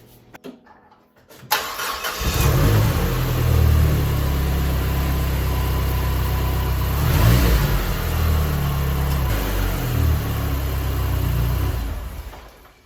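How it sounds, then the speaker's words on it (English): A car engine cranks and catches, then runs at a steady idle with a brief rev midway, loud and close, after an oil change. "we're gonna start the car and let it get into the oil filter"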